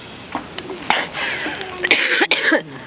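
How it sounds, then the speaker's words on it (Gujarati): Repeated harsh coughing, close and fairly loud, a few bursts in a row with some throat clearing. "આ જો ને ઉધરસ બહુ થઈ ગઈ"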